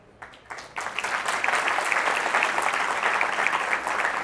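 An audience breaks into applause, starting with a few scattered claps and swelling within a second into steady, dense clapping that carries on at moderate loudness to the end.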